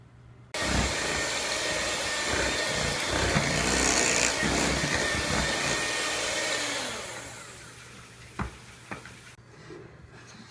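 Electric mixer whirring loudly and steadily as it blends banana bread batter with butter and flour in a bowl, then easing off toward the end, followed by a few clicks and knocks.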